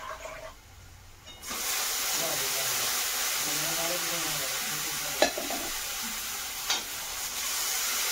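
Dal hits a hot pan and bursts into a loud, steady sizzle that holds to the end, with a couple of sharp clanks from a utensil and quiet muffled sounds just before it.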